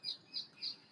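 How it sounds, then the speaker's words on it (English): Birds in a local park sing in three or four bright, repeated chirps, faint and a little distant against a quiet background. "enjoying listening to the birds singing"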